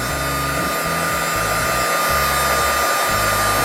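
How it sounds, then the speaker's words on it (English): An embossing heat tool blows loudly and steadily up close as it dries a homemade Mother's Day memory jar craft, a constant rushing whir with no speech. "I'm going to go ahead and dry this real quick with my heat tool."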